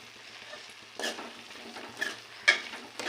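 Chicken pieces frying in a thick pan for a dry chicken fry, with a steady low sizzle and a few scraping stirs, strongest near 1, 2 and 2.5 seconds.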